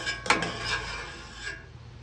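A metal utensil scrapes bacon grease off a camping griddle in a few short, clinking strokes, the sharpest near the start, then fades to quiet background.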